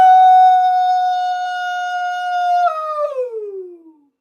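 A group of people howling together in imitation of wolves, one long sustained wavering howl that holds steady, then slides downward and fades out over about four seconds.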